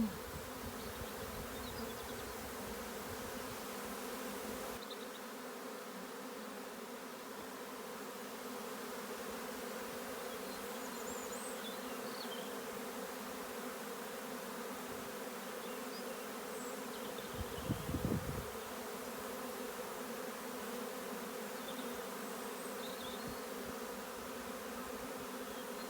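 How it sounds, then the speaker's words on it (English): A large honey bee swarm near an apiary drones steadily for the whole stretch, a dense, continuous buzzing with a brief louder swell near the end and no voices. "This is the only swarm I've seen here, and it's another whopper."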